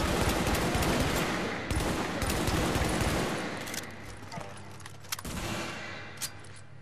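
Rapid automatic gunfire aimed at a turret in The Division, a dense loud burst of shots that thins out partway through and leaves scattered clicks and single reports.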